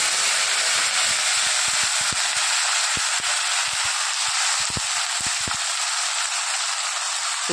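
Whole spices (cumin seeds, cloves, black peppercorns, cinnamon and bay leaf) sizzle steadily in hot oil in a pan for pulav, a loud continuous frying hiss with scattered sharp crackles and pops throughout, no talking.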